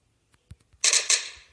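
A gunshot burst fires in the video game Masked Shooters, a sharp, loud crack followed by a second quick shot and brief ringing, after a few faint soft taps.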